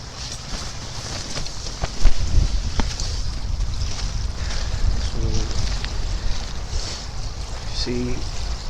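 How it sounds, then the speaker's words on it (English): Strong wind buffets the microphone outdoors beside big open water, producing a continuous rough roar with gusty swells and a sharper thump, while faint voice fragments briefly surface beneath it. "Now excuse the wind, right, because it is a bit windy."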